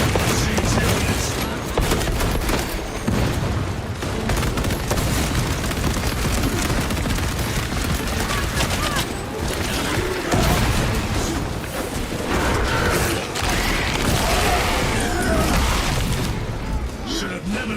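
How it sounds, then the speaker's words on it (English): Frag grenade blasts and dense gunfire in the Space Marine 2 video game make a continuous loud barrage of booms and rapid shots, with voices speaking over the combat. "Using frag grenade."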